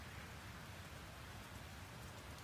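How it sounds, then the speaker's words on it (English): Steady rain falling outdoors, a continuous soft hiss of drops on surfaces, even and unbroken throughout, faint and distant with no voices. "It's raining"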